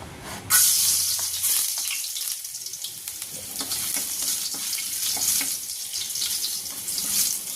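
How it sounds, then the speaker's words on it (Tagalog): Mung beans frying in oil with garlic in a pan, a steady broad sizzle with crackling bursts and a sharp flare as the ingredients hit the hot oil, continuing at an even level throughout. "At igigisa na natin itong ating munggo."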